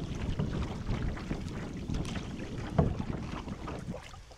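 A canoe is paddled across a windy lake, with steady wind buffeting and soft water sloshing around the hull at close range and no voices.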